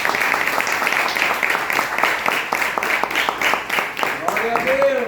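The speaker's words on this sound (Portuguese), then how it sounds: "Você pode dar um aplauso ao Senhor?" A church congregation gives applause to the Lord during a sermon, fairly loud clapping that settles into a partly rhythmic beat, with voices and a rising vocal tone coming through near the end.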